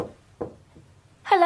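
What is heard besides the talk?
knocking on a door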